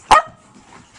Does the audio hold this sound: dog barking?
yes